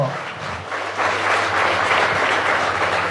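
Loud applause from a church congregation during a Spanish and Guaraní sermon on the Holy Spirit, a dense steady roar of clapping that swells after the first second and holds, with a low hum underneath.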